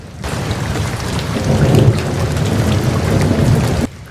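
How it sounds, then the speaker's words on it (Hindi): Heavy rain pours steadily with deep rumbling thunder rolling underneath, swelling midway and then cutting off near the end. "एक दिन जंगल में अचानक बहुत तेज बारिश होने लगी।"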